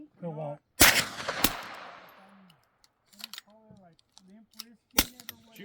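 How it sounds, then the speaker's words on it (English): Gunshots at a steel target on an outdoor shooting range in Pinetop, Arizona: a few sharp, loud reports with ringing decays, spaced seconds apart, with people talking in between. "Try to shoot the steel. The steel? And then you can hear the bullet hit."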